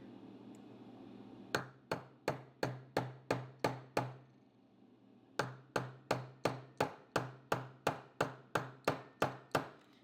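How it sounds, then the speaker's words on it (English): Sharp metallic hammer taps driving the firing pin into a SIG Sauer P226/P229 pistol ring out in two steady runs, about seven blows then a short pause followed by roughly eleven more, close and crisp. "So now I need to push the firing pin in and keep hammering."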